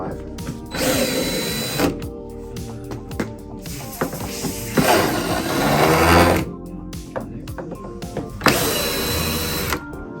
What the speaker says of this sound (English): Now take out the 3 bottom or 5 bottom screws